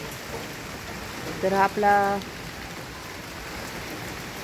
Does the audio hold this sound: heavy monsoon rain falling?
yes